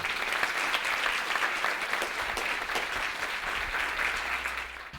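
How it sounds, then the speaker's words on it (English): An indoor audience at a neuro-rehabilitation event breaks into loud, sustained applause, dense clapping that holds steady and begins to fade near the end. "Rick, let's give him a round of applause."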